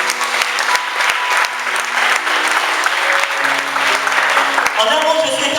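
A church congregation applauds loudly and continuously, with some cheering mixed in, while voices carry faintly through the clapping.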